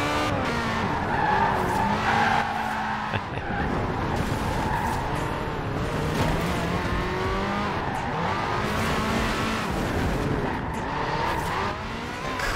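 Tires skid and squeal continuously as a car drifts and collides with traffic in the racing game Forza Horizon 4, with engine roar underneath throughout, loud and close, no talking.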